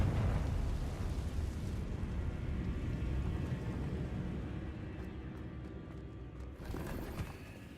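Explosive spell impacts from a Harry Potter video game, Confringo and Bombarda blasts: a heavy, continuous low rumbling roar of eruptions and bursts that stays loud throughout, with a fresh sharp blast near the end.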